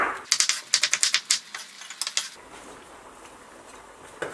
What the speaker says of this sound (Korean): 그래서 야채를 지금 양파를 썰겠습니다